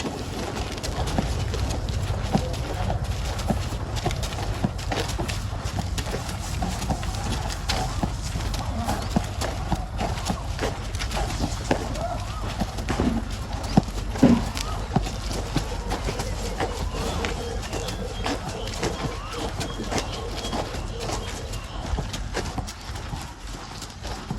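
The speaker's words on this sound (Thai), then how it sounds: "เสียงกีบเนาะ" Horse hooves clip-clop steadily on a walk in Thailand, a continuous rhythmic patter at moderate distance over outdoor ambience, with people talking quietly at times.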